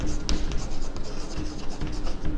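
A pen scratches across paper while a coordinate geometry maths solution is written out, making close, continuous scraping strokes with small taps, with no talk.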